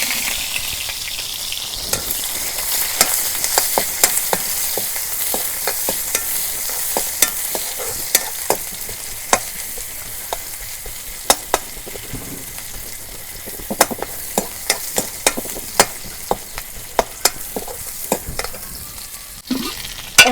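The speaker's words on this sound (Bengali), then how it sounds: "তেল গরম হচ্ছে, এখন আমি পেঁয়াজ কুচি আর রসুন" Chopped onion and crushed garlic fry in hot oil, a steady close sizzle broken by frequent sharp clicks and scrapes of a stirring spoon, with no talking.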